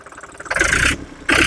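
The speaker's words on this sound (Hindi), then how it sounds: "देखिए शानदार आवाज ट्रैक्टर की" An old tractor's diesel engine with a rotary fuel pump chugs nearby, the low rumble rising into louder revving bursts with a brief dip between them.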